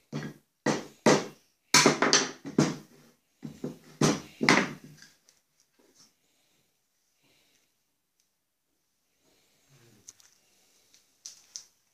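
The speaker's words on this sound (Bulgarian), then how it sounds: "Айде, вземи чука и почва да чукаш там." A hammer strikes repeatedly in a rapid, uneven series of sharp close blows for about five seconds, then stops, followed by near silence with a few faint knocks.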